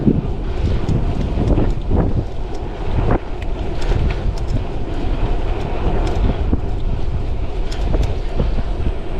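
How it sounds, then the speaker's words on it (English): Steady, loud wind buffeting the microphone while riding a folding electric bike, a continuous rumbling roar with gusty bursts throughout, no voices. "it's a little bit windy."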